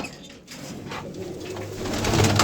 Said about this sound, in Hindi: कबूतर आ गए हैं जी दोस्तों, ये आपके सामने है।